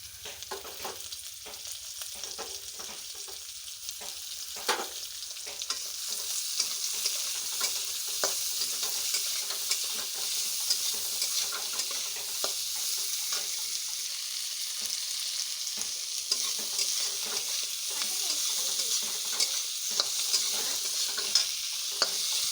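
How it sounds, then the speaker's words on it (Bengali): Onions fry in fish oil in a pan, a continuous soft sizzle running throughout with frequent light scrapes and clicks of stirring, close and moderately quiet, no voices. "পেঁয়াজগুলোকে লাল লাল করে ভেজে নেব।"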